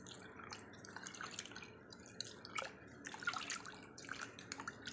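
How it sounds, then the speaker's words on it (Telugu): Soaked tamarind is squeezed by hand in water, giving faint, close wet squelches and drips in an irregular rhythm, with no talking. "చింతపండు పిసుకుందాం మనం."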